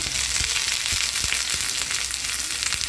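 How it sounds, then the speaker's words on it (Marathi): Coarsely cut onion fries in hot oil in a pan, a constant bright crackle and sizzle heard up close, with a few soft thumps from stirring underneath. "आता आपण कांदा हा भाजून घेऊया, थोडासा लालसर होईपर्यंत भाजायचा"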